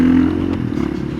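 A 2019 KTM 500 EXC-F supermoto single-cylinder engine idles close by, a loud, low, throbbing rumble with a rapid mechanical clatter running steadily throughout.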